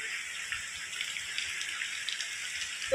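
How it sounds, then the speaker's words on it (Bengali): Heavy rain falls steadily outside a home's veranda, a soft continuous hiss with faint scattered drips, fairly quiet and even throughout with no talking. "অনেক বৃষ্টি, বাইরে যাওয়ার জায়গা নাই।"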